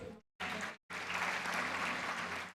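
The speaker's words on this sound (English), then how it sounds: "An applause, please." Applause at the Silver Jubilee celebration of a veterinary and animal sciences university in Nagpur, with a short opening burst, a brief gap, then sustained clapping from a moderate crowd at a steady, fairly distant level.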